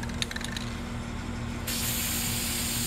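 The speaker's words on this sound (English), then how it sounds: "So what I'm doing is I'm using a very fine mist of oil-based polyurethane." Close, steady hiss of a fine mist of Varathane clear satin oil-based polyurethane being sprayed, with a constant low hum underneath; the spray grows louder and brighter partway through and continues without a break.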